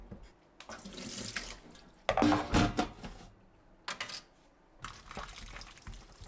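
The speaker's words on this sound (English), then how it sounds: "to keep these bowls actually sanitary, a manual scrub is still the way to go." Cat bowls scrubbed by hand under a running kitchen sink tap, with bursts of splashing water and clattering at the basin, loud and close, separated by quieter pauses; no talking.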